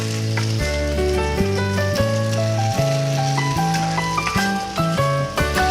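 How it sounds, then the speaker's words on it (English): Diced potatoes hit onions already frying in a hot pan, giving a loud, steady sizzle that runs throughout beneath a backing of melodic music. "Onions going, let's put in the potatoes."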